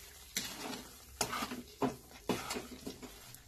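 Milk cake mixture with sugar being stirred and roasted in a kadai, four or five distinct scraping strokes of a spoon against the pan over a faint sizzle, close and moderately loud.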